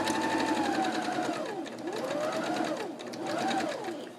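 A sewing machine stitches a tutu purse in a steady, continuous whir close up, its motor pitch rising and falling in slow waves as the speed changes.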